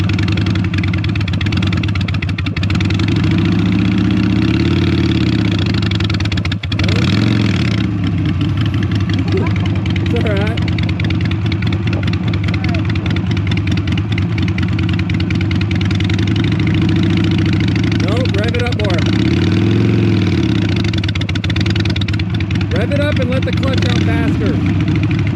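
A Harley-Davidson Sportster engine idles and revs for a burnout, a steady loud rumble with several swelling rev surges, close by.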